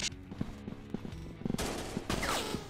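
Gunfire in a first-person robot shooting game on Android, a quick series of sharp synthetic shots in fairly even rhythm, ending in a dense louder burst of fire, with no talk.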